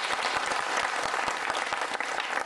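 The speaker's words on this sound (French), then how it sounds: "je vous demande d'applaudir très très fort" A hall audience claps loudly for a guest, a thick, sustained wash of many hands applauding at close range with no voices over it.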